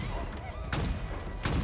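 A rapid-fire sniper rifle in Halo Infinite fires two sharp, loud shots spaced under a second apart over a dense bed of battle noise and rumble.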